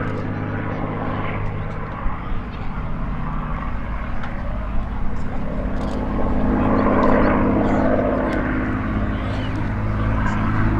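A CA-18 (P-51) Mustang propeller airplane drones steadily overhead at an airshow, its engine a continuous low rumble that swells slightly louder in the second half.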